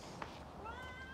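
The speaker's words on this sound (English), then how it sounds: "and then we also have our cats" A house cat lets out a single short, rising meow at moderate distance, heard against a quiet indoor room with a faint click just before it.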